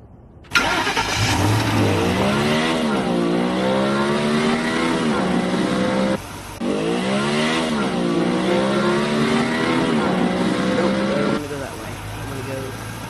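A car engine in a virtual reality game revs and accelerates loudly and steadily with rising pitch sweeps, briefly cut off and then resumed, while a player talks over it.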